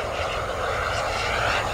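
An RC turbine jet plane whines past on its landing approach, a steady loud jet roar with a bright turbine hiss throughout this short moment.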